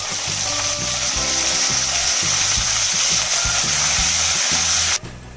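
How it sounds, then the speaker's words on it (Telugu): Loud, continuous sizzling of leaves frying in hot oil, with a rhythmic scraping or stirring clatter underneath, cutting off abruptly near the end. "ఇదే పోపులోకి మనం కొంచెం కరివేపాకు వేసుకుందామండి"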